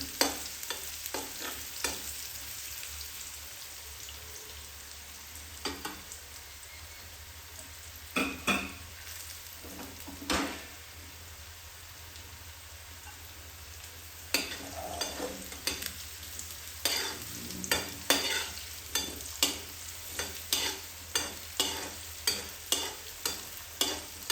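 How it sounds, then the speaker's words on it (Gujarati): Radish greens fry in oil over a low gas flame, giving a steady soft sizzle broken by repeated scraping stirs that come faster toward the end, close and moderately loud with no talking. "ગેસ ધીમો રાખશું. અને મૂળાને આપણે ગળવા દઈશું તેલમાં."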